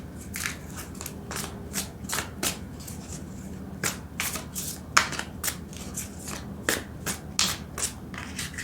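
Tarot cards being shuffled by hand, a close run of repeated crisp riffling bursts in an uneven rhythm, with no talk.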